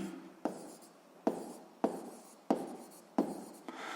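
Someone writes out a physics formula for rotation period, giving a series of six crisp scratchy strokes at fairly regular intervals, each fading quickly, close and isolated.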